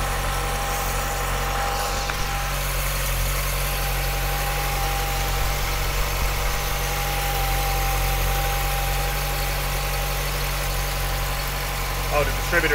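Mk2 VW Golf engine with a Weber carburettor conversion idling, a steady continuous low hum with faint mechanical ticking that holds even throughout.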